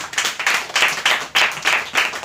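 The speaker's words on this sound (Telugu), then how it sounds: "కొట్టండి చప్పట్ల." An audience claps hands in several quick rhythmic bursts, loud and close, each flurry of claps rising and falling in a steady beat with no speech.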